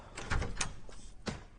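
An indoor door handled during a domestic drama scene, with a few short knocks and clunks spread across the moment, closing on a sharper latch-like click, moderately quiet with no talking.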